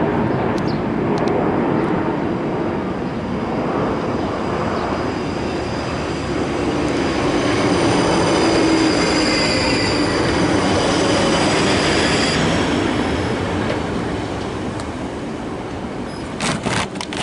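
South Western Railway Juniper electric train on the Reading and Windsor lines, a steady loud rumble with wheel squeal and whining motor tones heard from on board, continuous throughout.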